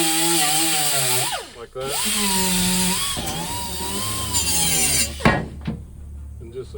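A power tool whines and shifts pitch as it cleans a 1965–1970 Chevy Impala body down to bare metal for spot welds. The tool is loud and close, it briefly cuts out near the middle, and someone speaks a few words.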